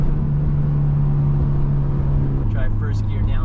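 A straight-piped Subaru Legacy GT exhaust drones steadily at idle on a first gear downshift, then the pitch drops and shifts, with a voice speaking briefly over it near the end.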